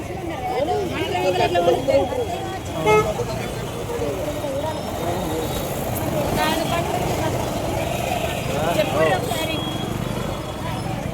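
Congested market street during Mahashivratri shopping, with a dense, steady rumble of traffic and a few short vehicle horn toots rising over it, under constant chatter from many nearby voices.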